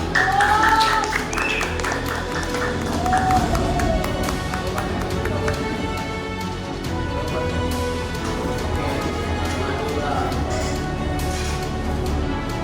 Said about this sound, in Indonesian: kita tepuk tangan dulu untuk kelompok 2